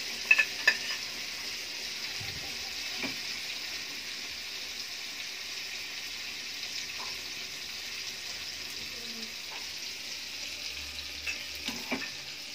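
Dried vaalai karuvadu fish frying in oil in a pan, a continuous close hiss and sizzle holding steady, broken by a few sharp clinks and spatters at the start and near the end, no talking.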